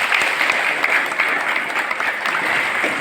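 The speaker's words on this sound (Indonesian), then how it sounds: "Tepuk tangan dulu untuk beliau." Steady, dense applause from an indoor crowd at a village welcome gathering for an official, sustained and fairly loud throughout with no pause.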